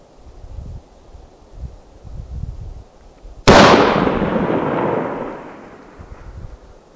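A single sharp rifle shot from a 115 DTAC at extreme long range, over a mile, cracks loudly and then rolls off in a long fading echo, with quiet rustling before it.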